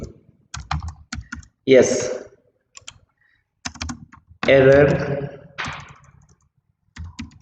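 PHP code being typed on a computer keyboard: short bursts of rapid clacking keystrokes alternate with brief spoken remarks, the keys close and fairly loud.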